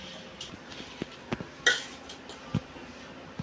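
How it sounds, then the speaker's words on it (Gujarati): Chickpeas, fenugreek and mango are stirred together in a steel pot, giving scattered metallic clinks and scrapes of a spoon against the pot, a few sharper knocks among quieter shuffling, with no voices. "આ કેરી છે 1 કિલો એને આપણે તપેલાની અંદર કરી ને આને બધું મિક્સ કરી દેવાનું છે"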